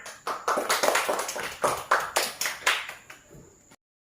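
A short burst of hand clapping from a group of schoolchildren in a classroom, a dozen or so quick rhythmic claps that taper off and end in silence.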